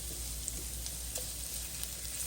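Onions fry in a pan, giving a quiet, steady sizzle and crackle with occasional faint pops, heard alone without talk.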